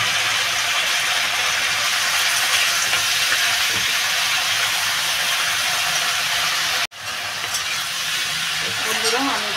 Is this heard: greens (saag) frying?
yes